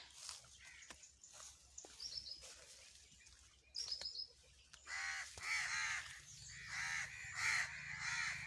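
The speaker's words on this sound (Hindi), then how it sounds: "कौवे भी स्वागत कर रहे हैं हमारा" Several crows caw in harsh, repeated calls in a village garden with plum trees, growing louder and denser toward the end, with faint other bird chirps in between.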